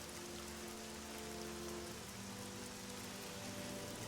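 Steady, dense rain falls in the video game Oblivion, a continuous hiss of drops pattering on surfaces that holds at an even level throughout with no voices.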